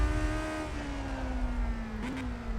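A 1968 Formula One car in a racing video game mod pulls away, its engine holding a steady, buzzing drone that sags slightly in pitch, then blips briefly near the end.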